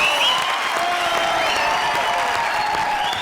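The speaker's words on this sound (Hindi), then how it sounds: "जोरदार तालियां" Studio audience applause at a televised Indian comedy show, steady dense clapping with light cheering, loud and sustained throughout, no speech over it.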